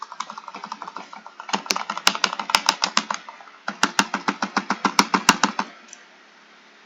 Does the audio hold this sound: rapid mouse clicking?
yes